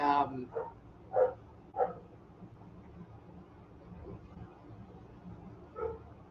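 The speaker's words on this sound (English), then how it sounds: "the dog next door is barking, and it just kind of caught my attention there for a second" A neighbouring dog barks several times, short yips and barks spaced irregularly, faint and somewhat distant, over a quiet indoor background with someone talking.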